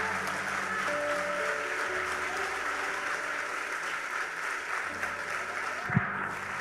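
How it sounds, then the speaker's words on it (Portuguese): A church congregation applauds during a service, a sustained wash of clapping that runs steadily throughout, with a sharp knock near the end. "Se é para aplaudir, aplaude com uma alegria."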